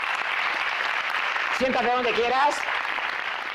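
Audience at a mental health event applauding steadily throughout, with a voice speaking briefly over the clapping partway in.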